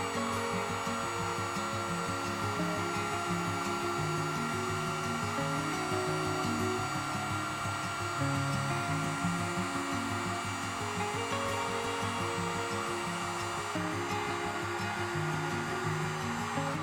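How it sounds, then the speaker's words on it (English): Heat gun blowing a steady, loud whooshing hum as it shrinks heat-shrink wrap over fishfinder wiring on a kayak, continuous and unbroken throughout with no talk. "then we're going to hit it with the heat gun"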